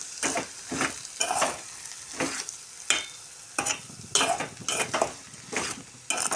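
Cabbage curry sizzles in a pan with green chillies and salt while a utensil stirs and scrapes it in repeated short strokes, the clatter loud and close, with no talk.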